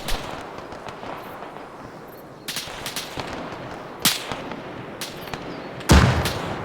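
A smoke round is launched in the ArmA 3 military shooter game. Several sharp bangs and cracks come at irregular intervals over a low, steady battlefield background, and the last one is the loudest.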